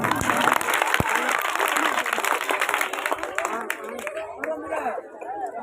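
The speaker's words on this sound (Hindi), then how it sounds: "तो तालियां कैसी बजा रहे हैं आप लोग?" A school audience at an Indian Public School Republic Day program claps loudly after a poetry recital, dense applause with chatter that thins out over the last couple of seconds.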